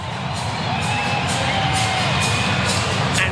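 A crowd of over 20,000 at a New Zealand v Australia T20 cricket match roars as hometown batter Rachin Ravindra walks out, a loud, sustained stadium swell that holds steady throughout.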